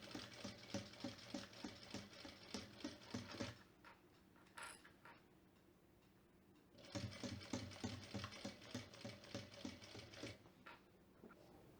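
A sewing machine stitches a narrow seam on a cosmetic bag in two steady rapid bursts, with a quiet pause between them.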